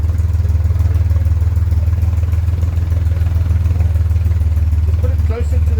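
A motorcycle engine idles steadily while warming up near a garage, a constant low rumble close by with a brief clatter near the end.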